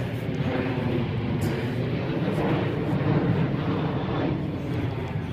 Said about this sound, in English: We're right in the flight path of LaGuardia International.